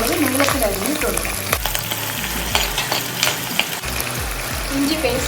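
Garlic and long-sliced green chillies fry for a Kerala-style fish curry, a steady close sizzle under a voice, with repeated low thumps and scraping stirs in the pan.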